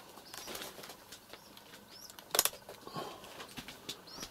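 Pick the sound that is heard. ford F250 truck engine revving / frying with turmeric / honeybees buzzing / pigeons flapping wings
pigeons flapping wings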